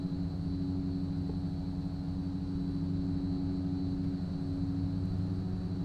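Twin turboprop engines of a Fokker F27 at takeoff power in a flight simulator, a steady, dense drone with a strong low hum and a constant higher whine, unchanging and loud throughout, no voices.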